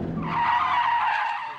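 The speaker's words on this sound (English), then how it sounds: "Drop the rear wheels onto the dirt and gravel, that reduces the grip, gets the car sideways and gets you into that drift to begin with." A car drifts sideways with its rear wheels dropped onto dirt and gravel, giving a loud, sustained skidding tire roar with gritty scrabbling that holds steady for the whole stretch, close by and with no talk over it.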